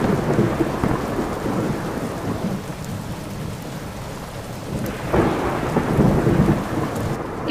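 Thunder rumbles in long, low rolls over steady unseasonal rain in Gujarat, with a fresh swell of thunder midway and rain hissing on surfaces throughout, no voices.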